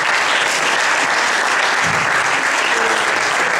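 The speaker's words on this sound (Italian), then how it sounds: "vorrei fare un ringraziamento e un applauso forte a una persona che ci aiuta tutte le volte" An audience at a talk in Jesi, Italy, claps loudly and continuously for several seconds in a dense, even burst of applause.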